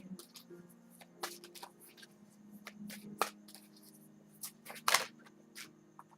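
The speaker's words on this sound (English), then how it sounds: "this is why I do the shuffling before I do the video" Tarot cards being shuffled by hand before a reading, soft riffling and rustling bursts with sharper snaps near the middle and end, close and quiet with no talking.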